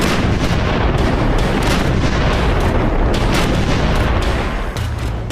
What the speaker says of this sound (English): 76mm shells tore into the advancing Afrika Korps